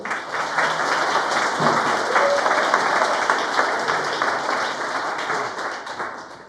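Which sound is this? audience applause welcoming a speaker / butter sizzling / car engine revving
audience applause welcoming a speaker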